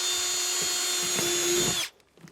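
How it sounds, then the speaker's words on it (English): A power drill bores into a plastic compost bin lid, a close, high, steady motor whine lasting under two seconds before it cuts off abruptly, leaving a few faint clicks. "We're going to get started here and start drilling some holes."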